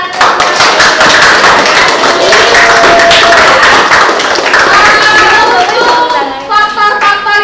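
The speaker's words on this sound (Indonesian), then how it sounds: "tepuk tangan buat Anda" A classroom breaks into applause, loud, close, dense clapping with sharp hand slaps that continues steadily before thinning out toward the end.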